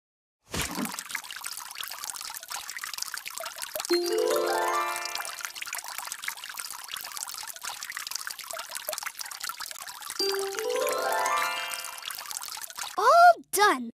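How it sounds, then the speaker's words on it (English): Water pours and trickles continuously while someone waters plants in a cartoon scene, with short musical chimes and voices heard now and then over the steady flow. "Today I'm watering the plants."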